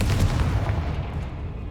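A Confringo blasting spell explodes in Hogwarts Legacy, a loud, dense boom with a heavy low rumble that sustains and slowly fades over a couple of seconds.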